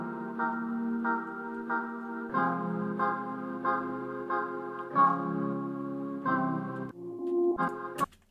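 A dark original music sample played back in FL Studio, sustained harmonic chords and tones in sections that shift about every second or so, ending with a brief higher burst; no talking.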